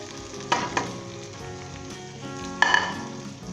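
Chicken and onions fry in a pan with a quiet, continuous sizzle, and two sharper bursts come as more goes in or gets stirred; no voices.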